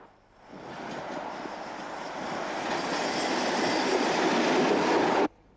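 A diesel train, hauled by a Class 31 locomotive, runs on the Bedford to Bletchley line in Britain. Its rumble and rushing wheel noise swell steadily as it approaches and passes, then stop suddenly.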